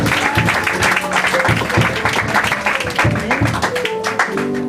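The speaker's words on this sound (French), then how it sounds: "Est-ce que vous pouvez applaudir pour Papa Diakessi?" Church congregation clapping steadily for a gospel figure, dense continuous applause filling the space with a faint musical hum underneath and no clear voices over it.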